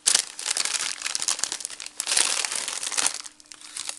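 Decorative moss being handled and pressed into glue for a Christmas moon decoration, producing dry, crinkly rustling in uneven bursts close to the microphone, with brief pauses between handfuls.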